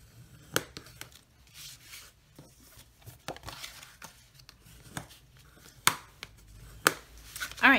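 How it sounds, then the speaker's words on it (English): A bone folder creases several folded paper cards, producing a few sharp, crisp scraping strokes spaced out among quieter handling noise, close and fairly soft overall. "So I'm just gonna give all of these a nice crease with my"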